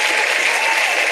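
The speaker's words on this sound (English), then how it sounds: "I think that deserves an absolute round of applause." Steady, dense applause from a crowd fills the whole short moment, even and close with no pauses.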